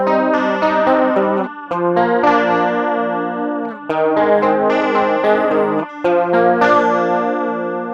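An electric guitar played through an engaged chorus pedal, with sustained notes and chords that have a lush, wavering shimmer. It plays alone, close and loud, in repeated phrases with brief pauses.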